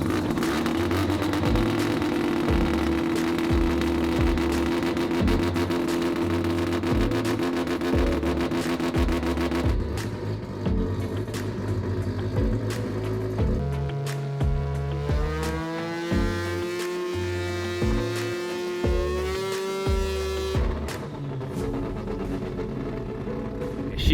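A semi-peripheral-port two-rotor rotary engine idling in a Corvette, a steady buzzy drone with shifting tones as the revs change slightly, close and continuous throughout.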